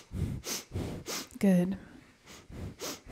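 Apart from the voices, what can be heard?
breath of fire, rapid rhythmic yoga breathing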